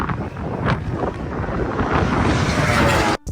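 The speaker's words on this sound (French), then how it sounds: "il y avait vraiment énormément de vent, j'ai rarement vu ça." Strong wind at a racetrack in Spain, buffeting the microphone with a loud, continuous roaring rumble and gusty swells, with no voices, cutting out briefly at the end.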